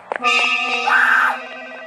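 Electronic telephone ring in a burger-themed video game, a single bright tonal trill with stacked harmonic tones and a short warble, loud and close, preceded by two quick clicks.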